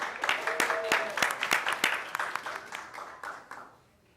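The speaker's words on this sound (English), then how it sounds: "maybe they're clapping because they know I'm last on the agenda for awards" Audience clapping at a middle school award ceremony, a dense burst of applause with sharp individual claps standing out near the front, steady for several seconds then thinning and fading out.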